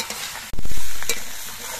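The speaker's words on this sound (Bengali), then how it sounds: "নুনটা দিয়ে নেড়ে চেড়ে মিশিয়ে নিয়ে সবজিগুলোকে কিছুক্ষণ ভেজে নিতে হবে" Potatoes and onion stalks are stirred in a hot pan with salt, a loud scraping stir of a spoon followed by a sustained close sizzle that slowly fades.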